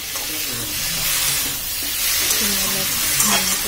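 Potato and eggplant with turmeric, salt and cumin fry in a pan, giving a continuous close sizzle with faint stirring scrapes and a low voice murmuring underneath.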